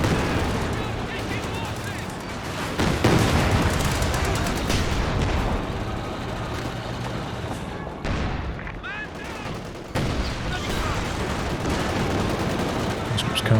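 Machine-gun fire and other gunfire crackle in Company of Heroes 2, with rapid bursts and booms running continuously under a commentator's steady talk.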